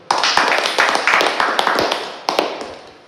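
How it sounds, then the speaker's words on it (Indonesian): A church congregation claps in unison, a strong rhythmic series of sharp, loud hand claps in steady beats, close and full, with a few irregular claps mixed in. "Tepuk tangan bagi Tuhan."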